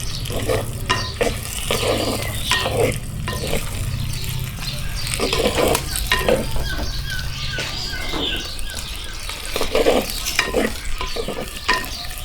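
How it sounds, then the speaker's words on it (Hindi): Sweet potato slices fry in hot ghee, a continuous close sizzle broken by repeated scraping and stirring strokes of a utensil against the pan. "अब यहाँ पर घी गर्म हो चुका है तो शकरकंद हम इसके अंदर डालेंगे"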